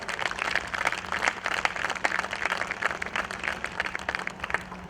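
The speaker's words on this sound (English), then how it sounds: "I request all of you to please welcome our Vice President with a big round of applause." At a members' meet, an audience gives a sustained round of applause that holds at a steady, fairly dense level throughout, with a faint low hum underneath.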